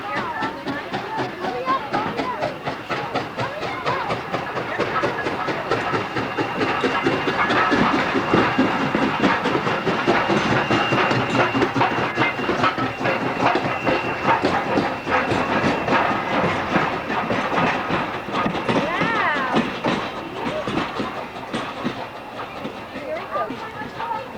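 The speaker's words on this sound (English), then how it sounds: "And I'll let the engine speak for itself." A steam locomotive on the Strasburg Rail Road chugs steadily with rhythmic clanking and hissing, loud and close throughout, with people talking faintly underneath.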